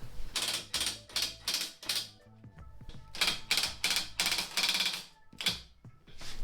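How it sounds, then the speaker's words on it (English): Hand ratchet working loose the oil pan bolts on a BMW E90, close, dry clicking bursts repeated in quick strokes with short pauses between. "what we need to do is loosen these bolts"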